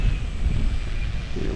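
Wind gusts across an outdoor grass RC airfield, a steady low rumble buffeting the microphone throughout, with a faint whine above it and no talking.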